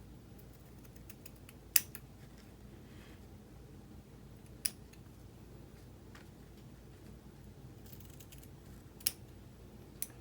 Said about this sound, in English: Let's cut off a little more.